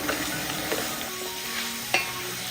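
Garlic, asafoetida and Kashmiri chilli powder sizzle quietly in a pan while being stirred, a low steady fry with a few soft scrapes and one sharper clink near the end, no voices.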